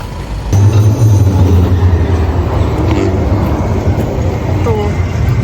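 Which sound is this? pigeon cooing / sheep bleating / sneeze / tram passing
tram passing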